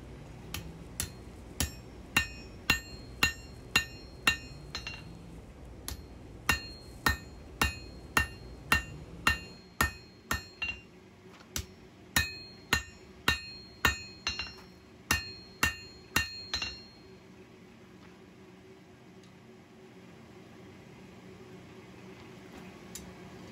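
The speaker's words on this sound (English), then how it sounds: "And there we are back at the anvil. Gonna work that tang out. Thin it down, taper it back." A hammer strikes a knife's tang on an anvil while it is thinned and tapered during forging of a small integral bolster knife. About twenty sharp, ringing metallic blows come in a steady rhythm, close and loud, then stop, leaving quiet room tone.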